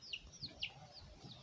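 Small chicks nearby give soft, high chirping peeps, several brief calls in a loose rhythm, faint and without speech.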